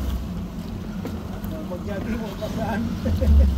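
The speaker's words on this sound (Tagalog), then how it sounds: "Pinandar na yung isang makina." A fishing boat engine on the Arabian Sea runs as a steady low rumble throughout, with voices talking over it and some wind noise.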